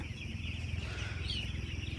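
A flock of chicks on day five of rearing on a village poultry farm clucks and chirps continuously over a low, steady mechanical hum, like a fan running in a shed.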